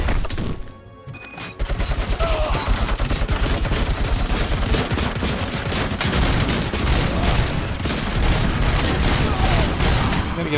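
Sustained gunfire in the first-person shooter RoboCop: Rogue City, a dense, loud barrage of rapid shots and impacts running almost continuously after a brief quiet opening, with a player's voice talking over it.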